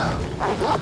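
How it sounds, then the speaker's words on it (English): A dog gives a couple of short barks, fairly close, over a steady outdoor background. "oh, there's a dog."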